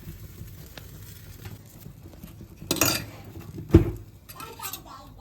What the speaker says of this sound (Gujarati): ચમચી વડે જો આવી રીતે ઉપરની છાલ કાઢી લેવાની છે